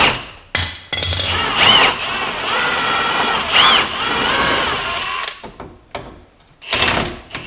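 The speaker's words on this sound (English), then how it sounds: "basically I'm going to use a 21 on an impact" Impact wrench with a 21 mm socket working a lower control arm bolt loose on a Jeep Cherokee, loud sustained hammering bursts in two long runs with short pauses and a final brief burst.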